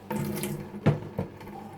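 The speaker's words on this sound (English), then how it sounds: "Put some water in there that we can. Actually, if I fill it up" Water runs from a kitchen tap into a container, a short steady gush with a couple of brief splashy bursts, close and moderately quiet, with no talking.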